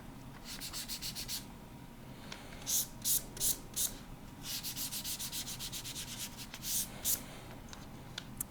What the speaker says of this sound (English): using a microfine sanding pad and just kind of massaging this back